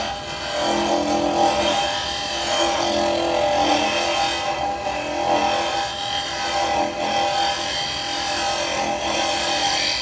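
Wood being hollowed on a lathe with a carbide chisel, a steady whirring drone with rough scraping and cutting chatter that swells and eases as the tool works, close and continuous with no talk.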